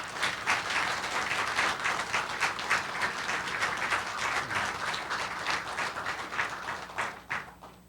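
An audience applauds at a hospital director's inauguration ceremony, sustained dense clapping from a large crowd that holds steady for several seconds and then tapers off near the end.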